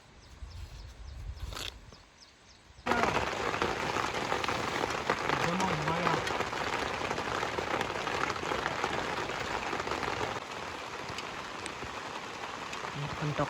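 Heavy rain pours steadily on a forest campsite, a dense, loud hiss that swells suddenly after a brief quieter opening with faint voices, then roars on without pause.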